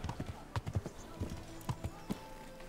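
Horse hooves clop in an irregular galloping rhythm in the medieval video game Kingdom Come: Deliverance, moderately near, with someone talking over them.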